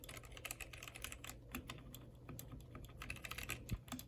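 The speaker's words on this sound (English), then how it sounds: "So the keyboard is fantastic. I absolutely love it. It sounds great." Typing on a gaming keyboard with red switches, with a rapid, irregular run of light key clicks and clacks, close and fairly quiet, with no talk.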